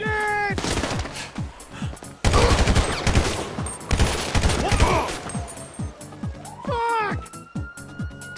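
Gunfire in GTA 5: rapid bursts of shots crackle loud and close in clustered volleys, with sharp single cracks between them, while someone talks over the action.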